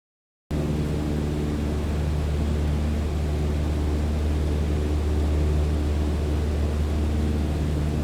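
A Cessna light aircraft engine in a flight simulator drones steadily in flight, a loud, constant propeller hum with a broad noisy wash over it, running unbroken after a brief silent start.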